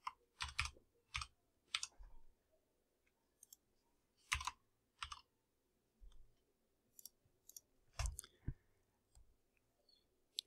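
Quiet keystrokes on a computer keyboard tap out in short, irregular clusters of sharp clicks, close and isolated against a low background hum.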